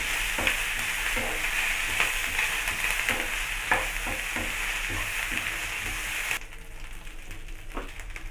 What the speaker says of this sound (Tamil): இது கூடயே ஒரு கப் கருவேப்பிலை சேர்த்துக்குங்க சேர்த்துட்டு ஒரு நிமிஷம் நல்லா வதக்கிங்க